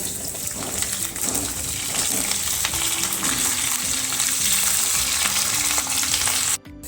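Potatoes and cauliflower fry in hot oil with a loud, continuous close sizzle and crackle. The sizzle stays steady and ends abruptly near the end.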